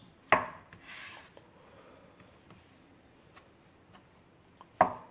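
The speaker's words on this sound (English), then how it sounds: "We have peeled the eggs, and we are now going to cut them into quarters." A knife cuts peeled eggs into quarters on a board, giving two sharp, close chopping knocks near the start and end with faint tapping and rubbing between.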